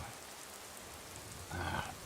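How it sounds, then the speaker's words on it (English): Steady rain in the Skyrim video game, a soft continuous hiss that swells slightly louder near the end, with no voices over it. "I'm enjoying the rain, letting it wash my scales."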